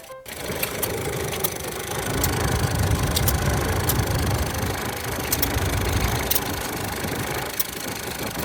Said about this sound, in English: this really fascinating laundry machine, also powered by a hit-and-miss motor